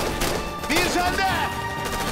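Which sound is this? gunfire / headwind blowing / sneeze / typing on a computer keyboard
gunfire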